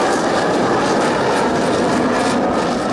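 Attack helicopters and Firebird aircraft roar over Hindon airbase during an Indian Air Force Day rehearsal, producing a loud, dense, continuous broadband rumble that fills the whole stretch without a break.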